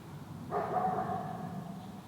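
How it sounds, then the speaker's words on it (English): A neighbor's dog gives a single bark or short yelp outdoors, moderately distant and clear above quiet background, with nothing else following. "Oh, the neighbor's dog is out."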